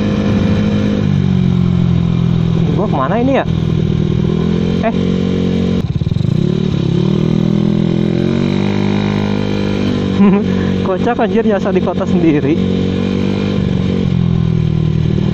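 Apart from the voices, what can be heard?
motorcycle racing exhaust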